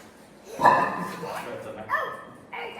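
A dog gives a few short yips and barks in quick succession, close and fairly clear, with whimpering tones between them. The barks come in short bursts over about three seconds.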